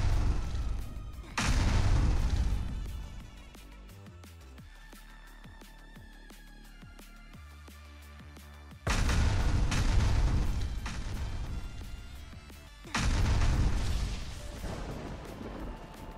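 Repeated loud, rumbling explosions blast apart pillars in Minecraft, arriving in long dense bursts separated by a quieter stretch of clicks and small pops.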